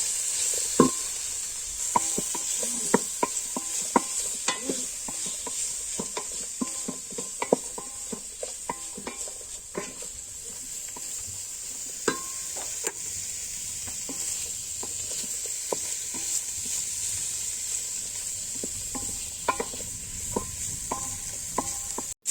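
Yardlong beans and mushrooms sizzle steadily as they are stir-fried for chow mein, with a spatula repeatedly scraping and knocking against the pan over a constant hiss, and no voices.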